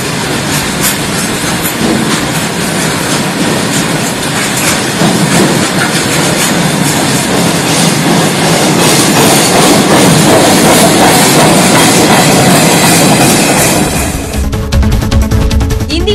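A train rolls over railway tracks in Andhra Pradesh, India, a loud, close, continuous roar of wagons with rhythmic clatter and wheel noise that changes tone near the end as it passes.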